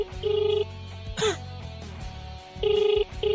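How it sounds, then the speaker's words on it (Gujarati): A mobile phone rings in repeated bursts of a bright electronic tone, each lasting about half a second, with a short noisy break in between; no one speaks. "ઓય, આ રિંગ જાય છે ને મિત્રો જો સાંભળો"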